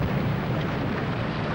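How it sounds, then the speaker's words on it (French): A loud, sustained explosion roar from a machine blowing up beside a house, a dense, rumbling blast that stays steady throughout with no quiet moments. "j'ai entendu une explosion."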